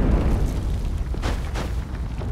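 A grudge stone in the video game Skul sets off a game explosion: a dense, rumbling boom with a few sharper bursts riding on top, loud and sustained across the moment.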